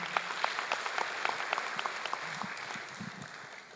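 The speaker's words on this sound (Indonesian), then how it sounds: "Tepuk tangan." Audience applause at a talk by the president director of PLN, the Indonesian state electricity company, with moderate clapping from a crowd that stays steady and then tapers off.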